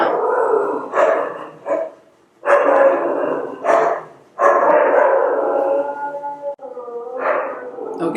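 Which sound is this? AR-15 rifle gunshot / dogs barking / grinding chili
dogs barking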